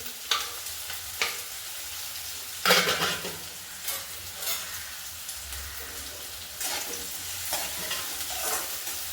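Finely chopped onion frying in hot oil with cumin and mustard seeds, a steady close sizzle broken by several sharp bursts of stirring and scraping, no voices.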